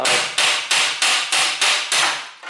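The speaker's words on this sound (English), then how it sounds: "a little bit hammering, and soon this opens" Metal hammering on a metal bar rings out in seven strong, evenly spaced strikes while removing a Toyota Corolla drive axle, each bright and clanging with a short ringing decay, close and loud with no talk.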